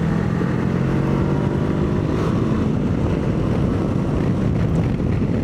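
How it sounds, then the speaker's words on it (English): A Honda NX500 motorcycle engine thrums steadily while riding, a low continuous drone heavily mixed with rushing wind noise throughout. "it makes a pleasant thrumming sort of sound"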